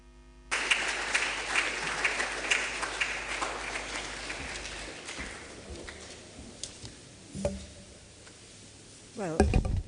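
Audience applause after a talk at a founder's week programme, a dense burst of many hands clapping that starts abruptly, holds steady, thins toward the end, then swells again near the close.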